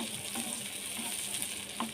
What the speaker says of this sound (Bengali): এটা বাটারের সঙ্গে আমি একটু ভাজা ভাজা করব।